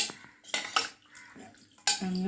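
A pressure cooker lid comes off and beef is stirred in the pot: a few sharp metallic clanks and scrapes of spoon against metal, close and fairly loud, separated by short pauses.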